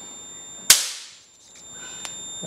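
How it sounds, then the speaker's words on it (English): A 450 volt capacitor discharged directly makes a single sharp, loud bang with a quick decaying tail, followed by a faint small click and a steady electrical whine in the background. "most people would use a resistor to discharge them, but that's no fun because you don't get a big bang."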